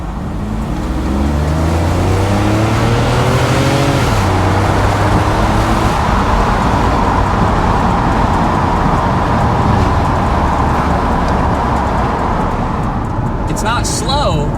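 A BMW E31 engine revving while driving, loud and continuous with rising and falling engine tones heard from inside, the steady road roar of a car in motion underneath.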